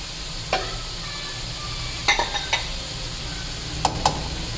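Chopped tomatoes are stirred into spiced chicken sizzling in a pot, with a steady low sizzle under several sharp scrapes and clinks of a spoon against the metal, spaced out across a few seconds.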